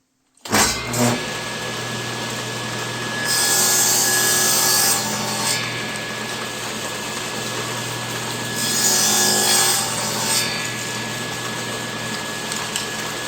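A saw blade cuts through wood: a steady motor hum holds throughout, and two louder, rasping cutting passes rise over it, each lasting a couple of seconds, with no speech.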